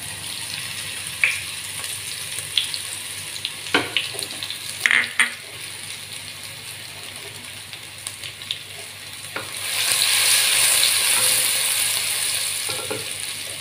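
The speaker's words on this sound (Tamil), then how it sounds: "வெந்தயம் லேசாக பொறிஞ்சிகிட்டு இருக்கும்போது நுணுக்கி வச்சுருந்த சோம்பு போட" Fenugreek seeds fry lightly in a clay pot, giving a soft, steady sizzle under occasional stirring scrapes and clinks, with the frying swelling louder toward the end.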